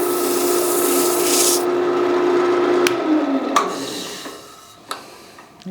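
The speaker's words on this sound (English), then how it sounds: "I'm like really softly sanding, because I want that texture to stay there" A burned wooden bowl is being sanded very lightly, giving a steady soft rubbing hiss with a faint tonal whine that fades after a few seconds, leaving scattered brief scrapes and taps.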